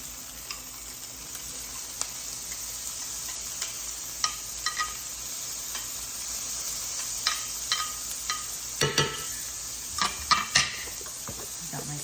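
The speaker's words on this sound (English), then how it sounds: "Now saute the veg." Vegetables sautéing in a pan while cooking a quick polenta meal: a steady, faint sizzle runs throughout, broken by a scattering of sharp clicks and scrapes from a utensil stirring and knocking against the pan, busiest toward the end.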